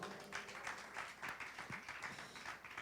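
Applause from a church congregation during a Spanish-language sermon, a steady patter of many hands clapping at moderate distance, quiet overall with no talking over it.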